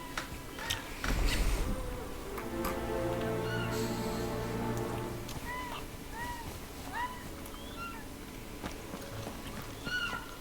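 Bee buzzing in Final Fantasy XVI: a low droning hum swells for a few seconds amid outdoor game ambience with chirping birdcalls, fairly faint under the background.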